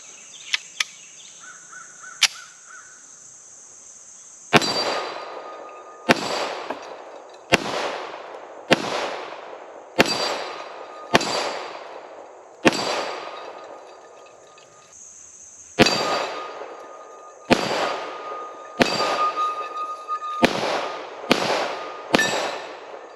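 Kimber Warrior .45 ACP 1911 pistol firing outdoors, with about fifteen sharp, loud reports, each trailing into a ringing echo. Shots come in spaced singles and then quicker strings, with a faint steady tone underneath.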